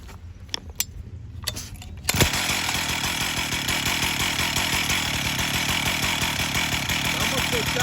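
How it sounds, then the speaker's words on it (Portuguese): Husqvarna chainsaw engine during carburetor adjustment, starting after a few clicks and then running loud and steady close by with a rapid pulsing rattle, and someone speaks briefly over it. "Quando essa motosserra fica batendo, tá?"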